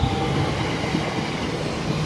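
A train at a railway station platform gives a steady low rumble with broadband noise, close and continuous, with no one speaking.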